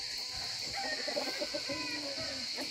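Chickens clucking inside a backyard coop in Muğla, Turkey, soft scattered clucks and low fowl calls close by over a steady background hum, with no voices over them.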